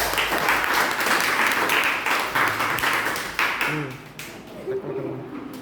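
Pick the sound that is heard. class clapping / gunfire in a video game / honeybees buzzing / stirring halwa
class clapping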